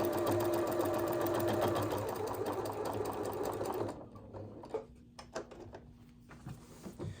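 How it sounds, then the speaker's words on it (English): A sewing machine fitted with an extension table stitches through a bulky cardigan in a fast, steady run for about four seconds, then stops, followed by a few small clicks and handling sounds. "I've gone ahead on this cardigan, attached my extension table since this is a little more bulky, and we're going to go ahead and stitch."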